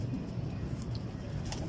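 Old Ferozpuri pigeons coo low and steady in a loft, the soft throaty calls overlapping close by without any talk.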